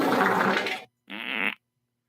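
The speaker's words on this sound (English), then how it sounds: "Why does it always wind up in the fart catalog?" Two short fart sound effects, the first a longer, lower rasp and the second a brief, higher buzzy blurt, each followed by silence.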